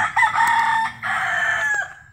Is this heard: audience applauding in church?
no